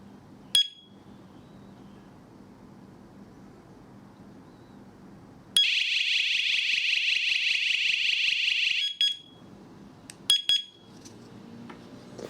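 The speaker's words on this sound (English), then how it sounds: "it will again count for 15 seconds before activate the siren and strobe" A Chuango WS-105 mini strobe siren blares a loud, shrill continuous electronic alarm tone for about three seconds after a few sharp beeps, then cuts off, with more brief chirps following against a quiet room background.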